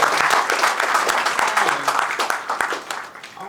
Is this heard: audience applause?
yes